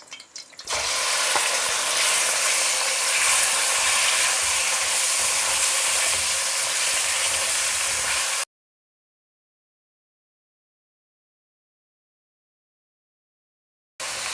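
Chicken breast cubes sizzle steadily and loudly in hot oil in a kadai for about eight seconds, then the sound cuts to silence before a brief return at the very end.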